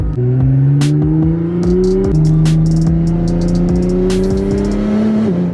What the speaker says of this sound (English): The car sounds so nice.